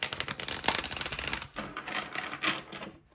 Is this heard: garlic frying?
no